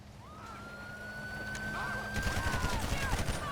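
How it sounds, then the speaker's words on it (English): Rapid gunfire bursts in a GTA 5 shootout outside a Fleeca Bank on US Route 68, crackling densely over a wailing police siren in the latter half, with radio-style voices nearby. "Shots fired, US Route 68 at the Fleeca Bank"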